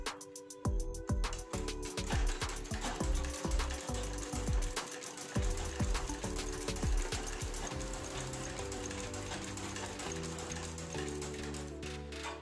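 A shoe-repair sewing machine runs steadily after cleaning and adjustment, its needle stitching in a fast, even mechanical rhythm that starts with a few separate thumps and settles into continuous whirring, with no talking.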